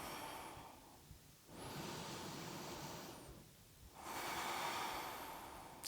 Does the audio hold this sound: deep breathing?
yes